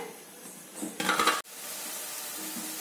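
Onion and a single green chilli sautéing in hot oil for a mushroom gravy, a steady close sizzle broken by a brief louder stirring clatter in the middle.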